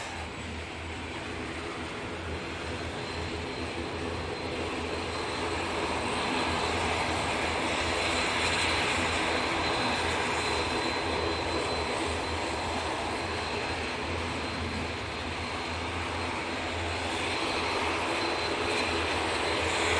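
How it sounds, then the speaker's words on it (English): An Etihad Boeing 777 jet taxis and lines up on the runway at Manchester Airport, its engines a continuous, fairly loud roar that builds slightly and holds steady throughout, with no voices. "the Etihad 777 now coming on via Tango. They'll just be lining up"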